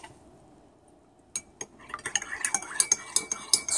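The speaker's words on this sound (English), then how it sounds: "Stir it." A spoon stirs a turmeric mixture in a glass or cup, starting after a quiet moment with a couple of clinks and then a rapid run of close, bright metal-on-glass taps and scrapes.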